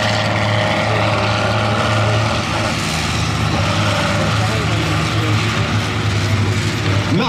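A loud torpille racing vehicle's engine roars steadily as it turns and skids around a dirt track at a farm fair, with a dense mechanical drone and rattling running throughout under crowd noise and an announcer's talk.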